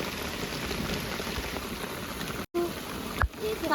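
Rain falls steadily during outdoor cooking on a road trip near a waterfall, a dense soft patter close by, with a couple of brief breaks and a small knock near the end.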